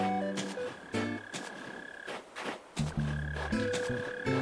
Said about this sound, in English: I hear another mole cricket, though.